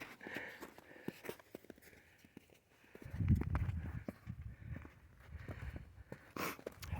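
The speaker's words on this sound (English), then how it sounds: "Lady on horseback." A horse with a lady riding it walks along a hiking trail, its hooves clip-clopping in a steady, fairly close rhythm with faint rustling around it.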